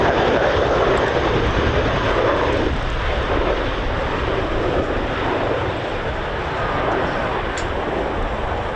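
Fixed-wing aircraft engine roaring steadily and loudly during an airshow display flight at RAF Fairford's RIAT, a broad sustained drone with some wind buffeting, slightly easing toward the end.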